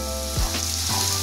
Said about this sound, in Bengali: এবার হাই ফ্লেমে ভালো করে ভেজে নেব